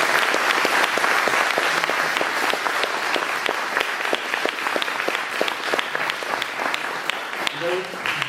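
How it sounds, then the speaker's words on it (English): Dense, sustained applause from a large audience after a panel discussion, steady and loud throughout with no pauses. "a big applause for the panel"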